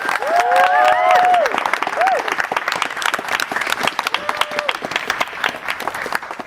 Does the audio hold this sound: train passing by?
no